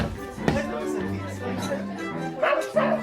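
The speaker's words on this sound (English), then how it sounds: "Archie, is that your new dog?" A dog gives a few short barks and yips mixed in among people talking, the barks sharp and close against the speech.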